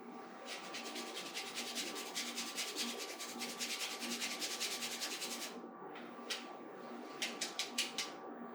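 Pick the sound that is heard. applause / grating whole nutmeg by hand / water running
grating whole nutmeg by hand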